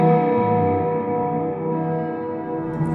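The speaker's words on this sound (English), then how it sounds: "Now I'm just going to turn on the reverb." Electric guitar played through its built-in processor with the reverb switched on, sustained chords ringing out with a long hall-like tail and steady level, no talk.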